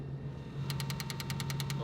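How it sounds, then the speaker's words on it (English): A Mazda FC RX-7 rotary engine's big secondary fuel injector for rotor 1 clicks open and closed in a rapid, even series of about ten sharp ticks, close up over a steady low hum. "what you heard was the secondary injector, the big boy, click, click, click, click, opening and closing as a test."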